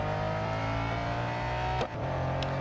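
A racing car engine in the game Real Racing 3 drones steadily at high revs, a sustained close-up whine with a brief dip near the end.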